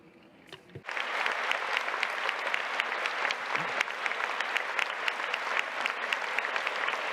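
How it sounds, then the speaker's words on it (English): A studio audience breaks into applause after a short quiet moment, a dense, even clapping that stays loud and steady to the end. "A big round of applause to you."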